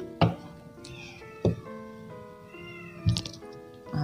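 A white cat meowing indoors, three drawn-out meows spaced a second or so apart, fairly close but soft, with faint background sounds between them.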